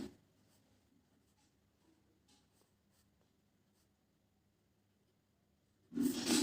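A table being written out on paper or a board for balancing a chemical equation: faint, sparse scratchy pen or marker strokes in quiet surroundings, ending in a sudden louder burst.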